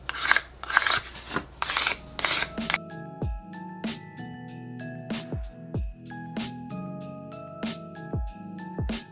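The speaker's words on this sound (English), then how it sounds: "Now you can take a screwdriver or any sharp object really and make some grooves." Several short rasping scrapes of a screwdriver cutting grooves into wood, each followed by small tinkling rings and clicks, repeated at an uneven pace.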